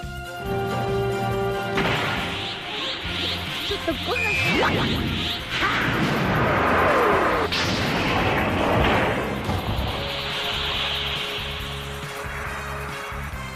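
Laser blast fired by Baby in a Dragon Ball GT anime fight, a loud sustained burst with whooshing impacts and crashing booms that blow opponents back, layered under a dramatic musical score.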